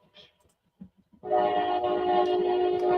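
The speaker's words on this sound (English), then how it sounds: "Yes, that is a train, as you can hear in the background." A train rolls past in the background with a loud, sustained horn blast holding steady for nearly two seconds, following a few quiet knocks and faint sounds at the start.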